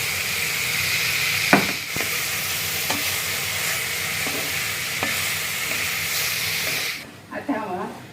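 Soya chunks frying in a pan with a steady sizzling hiss and a few clicks of utensils, ending with a short clatter as the sizzle drops away.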